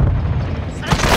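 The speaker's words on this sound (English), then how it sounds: "Stun grenade out." A stun grenade detonating in Call of Duty: Modern Warfare II, a loud, booming low blast filling the whole short moment with a second surge near the end, close and forceful.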